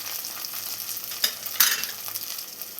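Crushed ginger, garlic and chillies sizzle in a hot pan for prawn curry, with a steady close frying hiss and a couple of sharper scraping stirs of a spoon.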